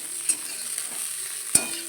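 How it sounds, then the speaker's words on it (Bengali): Cauliflower florets, first boiled with a little turmeric, fry in a small amount of oil in a wok, a faint, quiet sizzle broken by two sharp stirring clinks. "অল্প তেলে ভাজা হয়ে যায় কপি"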